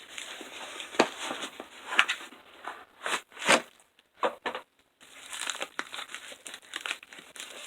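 Plastic packaging for N64 games crinkles and crackles as it is torn open, loud and close, in irregular bursts of crumpling with brief pauses, no talking.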